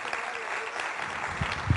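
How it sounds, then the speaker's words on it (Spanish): Brief burst of audience applause at a talk, dense clapping throughout with a couple of louder thumps near the end. "un aplauso a Vero"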